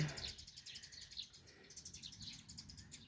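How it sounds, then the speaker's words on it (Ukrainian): Small birds sing outdoors on a spring day, a faint, distant series of rapid repeated chirps and tweets pulsing in quick bursts, with no talking. "пташки співають"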